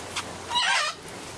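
Lone caged bird at an orchid nursery giving a short, loud squawking call in the middle, preceded by a brief faint chirp, with quiet room tone around it.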